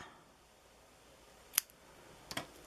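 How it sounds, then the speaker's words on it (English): Scissors cut a sheet of collage paper in half, a soft crisp snip followed a moment later by a quick double snip, quiet and close with no talking. "I'm actually going to cut it in half."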